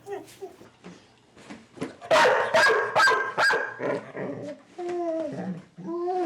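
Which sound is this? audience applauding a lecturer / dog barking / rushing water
dog barking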